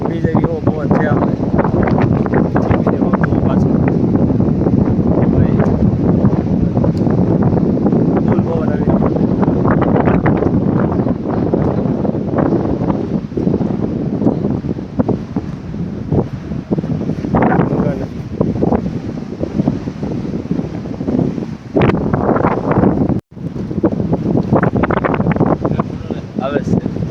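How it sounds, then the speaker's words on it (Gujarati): Strong, gusting wind buffets the microphone on the bank of the Ganges, a loud continuous roar with surging rushes, alongside nearby voices and river-bank activity. "ગંગા કાંઠે ફૂલ જોશમાં પવન ફૂંકાઈ રહ્યો છે."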